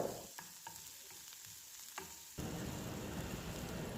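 Onions and green chilies sautéing in oil over a high flame, a close, steady sizzle with a few stirring clacks early on, then the frying swells louder and holds on its own without any voices.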